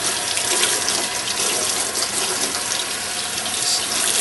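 Tap water runs steadily into a sink as parsley is washed under the stream, a close, continuous broadband splashing with no pauses and no talk.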